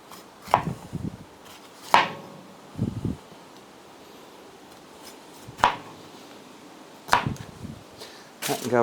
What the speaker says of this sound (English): we're going to chop ourselves up a bit of pepper